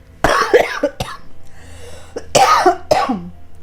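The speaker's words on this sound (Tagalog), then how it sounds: "kasi inuubo pa talaga tayo" A run of close, forceful coughs in quick bursts, a brief pause with a soft hum, then two more hacking coughs.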